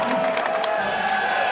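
A crowd at a Muay Thai fight event claps and cheers for a former world champion, a brief, steady wash of applause and voices filling the whole moment.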